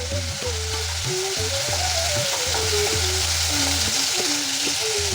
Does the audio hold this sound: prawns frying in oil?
yes